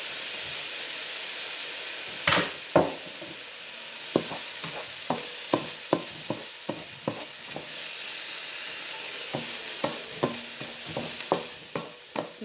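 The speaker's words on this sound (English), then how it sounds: "You should hear it sizzle." White wine vinegar hits a hot pan with a soft steady sizzle and hiss, broken by a series of sharp clacks and scrapes of stirring, close and fairly quiet, with no voices.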